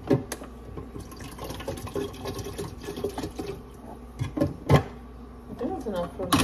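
Water is poured into a cup in a home kitchen, a steady trickle and splash, close by and modest in level, with clinks and handling noises around it.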